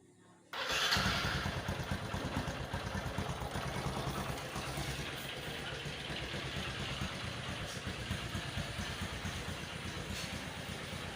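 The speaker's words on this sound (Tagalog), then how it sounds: "Testing natin kung okay ba yung andar." A motorcycle engine with a freshly cleaned carburetor starts abruptly after a brief quiet moment, then settles into a steady, close, throbbing idle that runs on evenly to the end.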